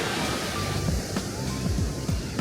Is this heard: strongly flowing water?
yes